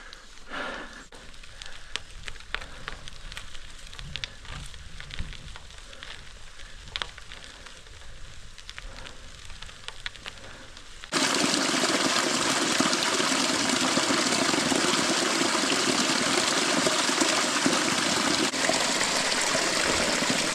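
Mountain waterfall gushing in a steady broadband roar that swells abruptly to full loudness partway through, close and continuous with no talk, heard during a remote gravel bike tour.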